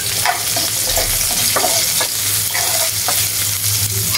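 Garlic and onion fry in a little oil in a pan, a steady, close sizzle with a few stirring scrapes and no talking.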